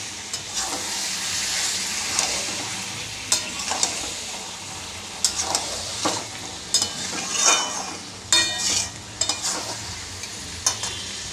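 A spoon stirs rohu fish and bottle gourd curry with coriander leaves in a hot pan, giving a steady sizzle with repeated scraping and stirring knocks close by.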